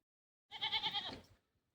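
Goats and sheep bleat as village women herd them toward the forest to graze, a single wavering, harmonic bleat lasting about a second, fairly close and clear with no talking.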